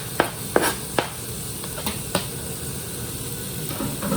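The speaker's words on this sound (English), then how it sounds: "just stir that until I can start to smell the garlic" Minced garlic fries in a pan while being stirred for short rib, a soft low sizzle under several sharp clinks of a utensil against the pan early on, then gentle continuous frying.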